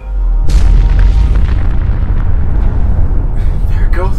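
The Institute explodes in the video game Fallout 4: a heavy, booming blast hits after a brief lull and rumbles on for several seconds, with voices reacting toward the end.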